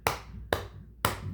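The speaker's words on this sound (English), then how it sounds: "I can start with clapping a slow steady beat like this" Hands clap a slow, steady beat: three sharp, evenly spaced claps about half a second apart, close and alone.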